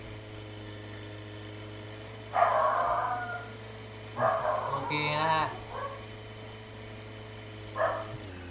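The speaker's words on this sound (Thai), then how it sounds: "ไม่ต้องสนใจเสียงหมาเห่านะฮะ" A dog in the Roblox game Lumber Tycoon 2 barks in three short bursts over a steady low electronic hum, and someone speaks briefly between them.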